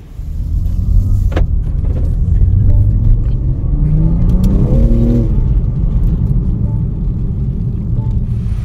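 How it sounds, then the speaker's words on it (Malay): A BMW M3 Competition's engine roars loudly and close, climbing through a rising rev before settling into a deep, rumbling idle; a sharp click or thump is heard early on. "inilah dia BMW M3 competition"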